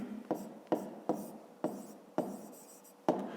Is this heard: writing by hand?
yes